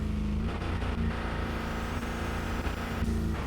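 Car engine in the RevHead racing game, a loud continuous drone whose pitch drops and climbs through quick downshifts, with brief dips between gear changes.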